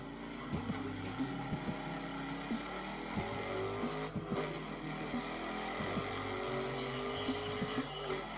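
A racing car drives a stage in GRID Autosport played on a smartphone, its engine a steady droning whine with repeated gear-shift dips and rises, continuous and moderately loud throughout.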